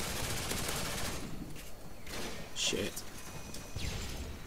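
Rapid gunfire in an online match of Modern Warfare 2 on PC, with bursts of shots and crashing impacts close by throughout, while a player's voice briefly swears over the din.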